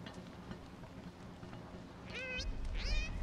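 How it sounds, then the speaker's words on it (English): Two short meows from a cat in the Don't Starve Together video game, the second longer and more drawn out, heard near the end over quiet game ambience. "Why does my cat keep talking?"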